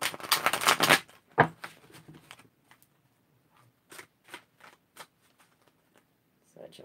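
A deck of Santa Muerte tarot cards riffled in a quick, loud burst, followed by scattered soft card snaps and flicks, with someone talking intermittently.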